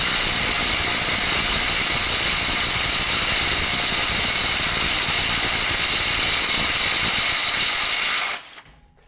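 A FLEX 24V compact impact wrench hammers continuously under load at maximum capacity, a loud, dense, steady rattling drone that cuts off abruptly near the end.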